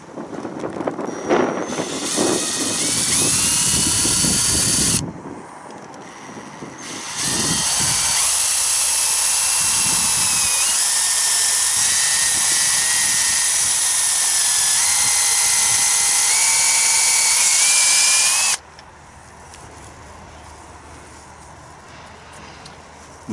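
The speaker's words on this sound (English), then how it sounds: "So I'm going to try and drill in there." Power drill boring into an apple tree trunk close to the cambium for drill grafting outdoors; a loud, steady whine runs for long stretches with brief pauses and a short break, with wind noise on the microphone.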